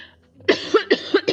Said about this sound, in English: D680 falls to the floor and begins coughing heavily for 20 seconds